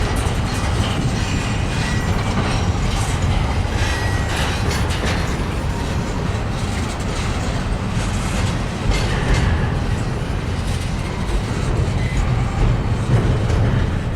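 A Norfolk Southern freight train with well cars rumbles past close to the track, a steady loud roar of rolling wheels with clickety-clack joints and occasional faint wheel squeals throughout, with no voices.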